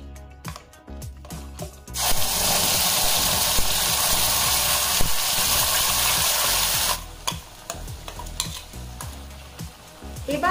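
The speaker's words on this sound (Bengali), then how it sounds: "তেল গরম হয়ে গেছে। এবারে এতে দিয়ে দিচ্ছি ধনেপাতার পেস্ট।" Coriander leaf paste hits hot oil in a pan with a loud, bright sizzle that holds for several seconds, framed by clinks and scrapes of a spatula stirring before and after.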